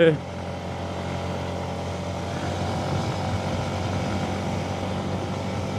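A vehicle engine labours uphill in fifth gear on the road from Coimbatore to Attapadi, a steady, continuous drone with a low hum throughout, loud and close, no one talking.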